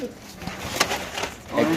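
A white lakkha pigeon coos softly in a loft, a short low murmur heard close among faint rustling and background noise.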